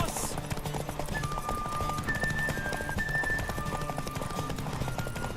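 A horse gallops in a race in The Witcher 3 video game, a fast, continuous drumming of hooves close up, layered with game music and a few brief tonal effects.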